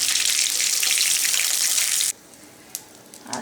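Stingray fish sizzles loudly in hot oil with a dense, steady hiss, then the frying cuts off abruptly, leaving a quiet room with a few faint clicks.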